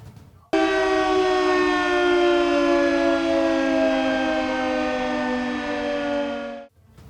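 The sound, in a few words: civil defense air raid siren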